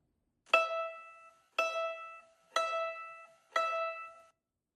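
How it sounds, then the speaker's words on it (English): A string instrument played pizzicato gives four separate plucked notes, evenly spaced about a second apart. Each note has a sharp attack and a short ringing decay, heard alone and clear. "Here's pizzicato sound."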